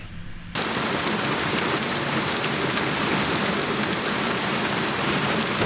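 Heavy rain pours down on a campsite in a dense, continuous hiss, starting abruptly after a quieter moment and staying loud throughout.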